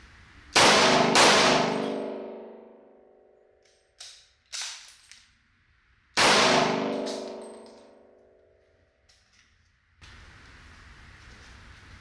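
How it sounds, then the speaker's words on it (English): .357 SIG pistol rounds, Federal 125 grain full metal jacket, fired at armor at a range, loud sharp shots followed by ringing metallic clangs with long decay, a few quieter knocks between, no voices. "This time we're going to shoot two Federal 125 grain full metal jackets and"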